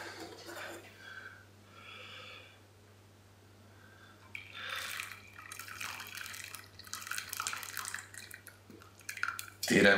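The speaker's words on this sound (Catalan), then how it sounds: "Tirem el líquid que fa de quall." Liquid rennet is poured for making mató cheese, a trickling, dripping pour that builds and grows louder toward the end, close by, over a low steady hum.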